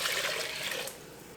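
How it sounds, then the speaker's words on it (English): Water pouring steadily into a soup pot on the stove, a close, continuous splashing stream that eases off slightly toward the end. "Next, we're going to add 6 cups of water."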